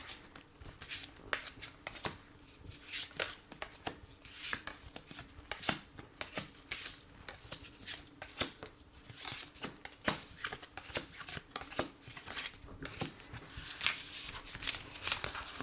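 Tarot cards are shuffled for a reading in a quiet room, with a soft, fast run of papery riffles and taps going on steadily and close by.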